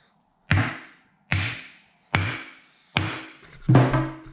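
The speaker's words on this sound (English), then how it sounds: "Just smack them out with a hammer." A hammer hits the subframe bushings of a Nissan 300ZX Z32 with five evenly spaced metallic smacks at close range, each ringing briefly before fading, and the last strike lands harder than the others.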